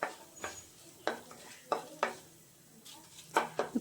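Panch phoron spices fry in a pan for a Bengali cabbage curry while a utensil stirs them, giving a soft sizzle under repeated scraping and clinking strokes against the pan.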